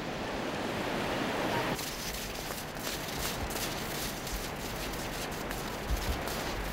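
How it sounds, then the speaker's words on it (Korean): Rough Atlantic Ocean waves along a West African sandy coast crash and wash continuously, a dense steady roar of surf with some wind, moderately loud and with no voices. "대서양의 파도는 워낙 거세서 해수욕엔 적합하지 않다"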